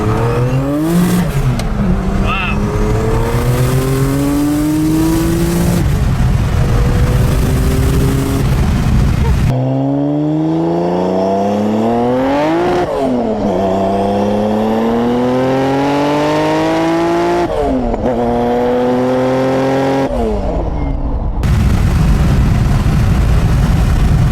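A 707-horsepower air-cooled Porsche 911 Turbo accelerating hard through the gears, loud rising engine pitch sweeps broken by brief shift drops, the roar filling the cabin with an occasional voice underneath.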